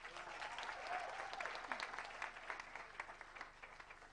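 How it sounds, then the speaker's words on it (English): A crowd at the closing ceremony of a Nairobi summer school on climate justice applauds after a speech, with steady, full clapping that holds for several seconds and thins slightly toward the end. "I think she deserves a better clap"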